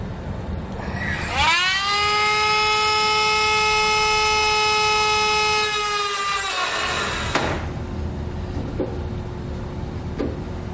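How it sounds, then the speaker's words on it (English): Dremel rotary tool fitted with a cutting blade slicing through the steel bed of a 2018 Chevrolet truck, a loud steady high whine lasting several seconds before stopping, followed by faint shop noise. "It's going to take a Dremel tool with a cutting blade on it."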